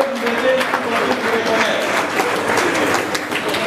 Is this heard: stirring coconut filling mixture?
no